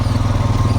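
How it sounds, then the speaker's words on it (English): A four-wheeler ATV used for hauling logs to a sawmill runs with a steady, low, pulsing engine drone, loud and close, with no voices. "These four-wheelers have turned out to be one of the most useful tools that we have."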